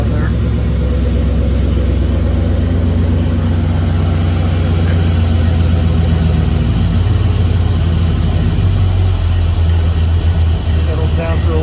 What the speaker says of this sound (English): Settles down to a low idle pretty good.